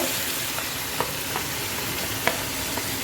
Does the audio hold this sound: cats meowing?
no